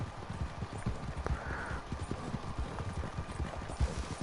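Horse hooves clip-clop steadily in Red Dead Redemption 2 Online, a close rhythmic run of muffled thuds at a galloping pace with faint ambient noise behind.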